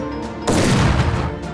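A burst of cartoon gunfire, a sudden loud blast after a short lead-in, trailing into a dense crackling roar that fades over about a second.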